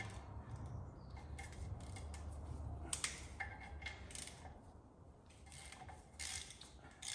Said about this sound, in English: this one is quite an unusual ratchet